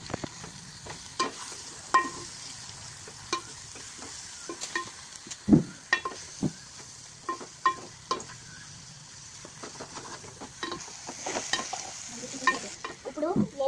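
Ginger paste and fried onions for chicken curry are stirred in a hot pan, with a soft continuous sizzle broken by repeated irregular scraping and clinking strokes of the spoon, close and without talk.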